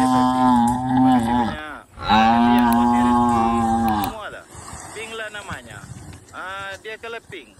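A domesticated water buffalo gives several loud, drawn-out moos close by, each long and tonal with short pauses between them, ending with shorter calls among faint background sounds.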